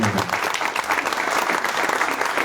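A conference audience gives loud, dense applause that runs without a break from start to finish, many hands clapping together close by in a large room.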